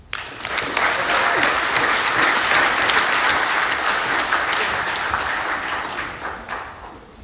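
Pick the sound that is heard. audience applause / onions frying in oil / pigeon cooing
audience applause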